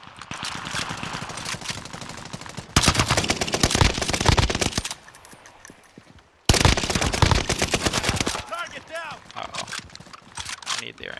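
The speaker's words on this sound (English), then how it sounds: "Keep an eye on that gunfight right up there on Trink." Automatic rifle fire from a Fortnite gunfight rattles in dense bursts, loud and close at first, dropping away briefly, then returning in heavy volleys, with scattered shots and game sounds between them.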